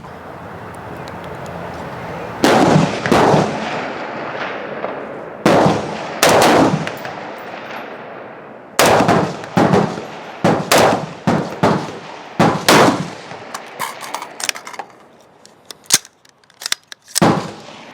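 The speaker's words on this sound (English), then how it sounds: "just put another couple of rounds through it" Fightlite SCR rifle shots crack out in uneven bursts of single rounds at an outdoor range, loud and sharp with short echoing tails, spaced by brief pauses.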